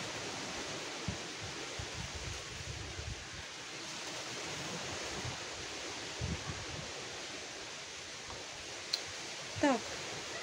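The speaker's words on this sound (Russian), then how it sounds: "Ветер такой сильный, мне кажется, просто задувать будет." Strong wind gusting outdoors in a village, a steady broadband roar with buffeting rumbles, heard alone without talk.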